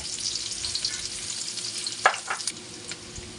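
Garlic, onion and ginger sauté in hot oil in a pan as the base for squid adobo, producing a steady close sizzle with a few light utensil clinks.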